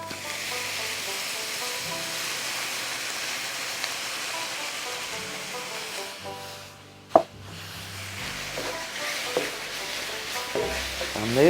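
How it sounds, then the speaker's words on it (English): Drained canned diced tomatoes sizzle steadily in a hot frying pan with ground beef while a utensil scrapes and stirs through them, with a brief clatter partway through. "Now we're going to add that can of drained diced tomatoes."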